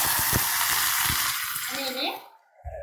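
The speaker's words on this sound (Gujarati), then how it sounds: "હવે આપણે એ જ તેલમાં એક વાટકી વટાણા એડ કરીએ છીએ" Peas frying in hot oil sizzle loudly with stirring taps and scrapes, then the sound drops away near the end as a voice briefly speaks.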